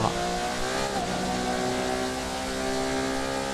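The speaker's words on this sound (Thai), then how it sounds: "เสียงท่อ" A steady, loud car engine drone in GTA V with a rough exhaust note, holding a constant high rev without pauses.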